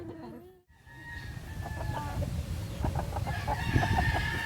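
Aseel chickens, two hens and a rooster in a farm pen, cluck and call nearby with a rooster crowing, over a steady low background rumble.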